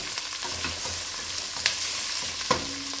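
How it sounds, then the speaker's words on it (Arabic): Chicken bones and onion fry in a pot with a constant sizzle as they are stirred, and two sharp utensil clacks against the pot stand out near the end. "راح اسقط العظم اللي انا شفيت منه اللحم، وأحرك شوي مع البصلة"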